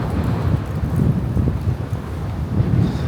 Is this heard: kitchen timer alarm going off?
no